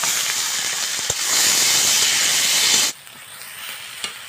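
Tomatoes hit a hot pan of frying egg and onion, setting off a loud, bright hissing sizzle that holds steady, then drops abruptly to a quieter simmering crackle with a few small pops.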